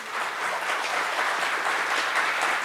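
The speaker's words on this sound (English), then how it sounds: "can we have a big round of applause?" Panel audience breaks into applause, a dense, steady wash of many hands clapping at a moderate level, sustained throughout with no voices over it.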